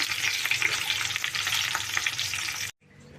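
Spice tempering for a traditional amaranth-leaf tamarind curry fries loudly in a pan, a dense continuous crackle and sizzle close up that cuts off abruptly near the end, leaving faint background noise.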